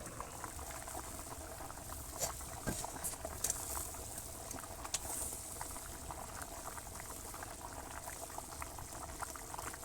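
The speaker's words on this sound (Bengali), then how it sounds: "ঝোল ফুটে উঠেছে" Curry broth bubbling at a steady boil in a pot in a village kitchen, with continuous close gurgling and popping and a few sharper bubble bursts, no voices.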